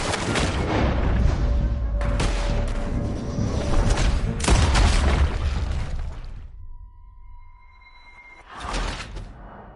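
Gunfire in the Red Dead Redemption 2 video game: loud, booming shots and bursts run for about six seconds, then a quieter stretch with steady tones before one more sharp blast near the end.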